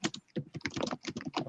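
Rapid typing on a computer keyboard, a close, steady run of light key clicks with short pauses, alone without talk.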